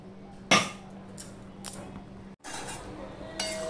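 Lid set down on a steel pot of ridge gourd and moong dal, a sharp metallic clink near the start, then quiet kitchen sounds with a second softer clatter.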